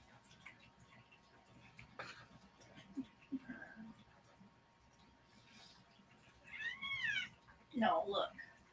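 A house cat lets out a couple of short, close meows near the end, after a quiet stretch with faint background noise and a little speech.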